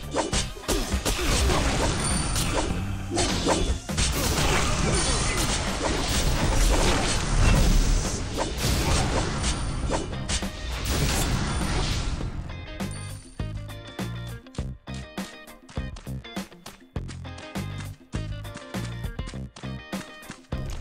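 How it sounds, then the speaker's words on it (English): Barrels blown up in the video game KingsRoad: a loud, busy run of crashing blasts and smashing hits over game music, fading after about twelve seconds into sparser thuds and tones. "You can also visit this little section and blow up all those barrels,"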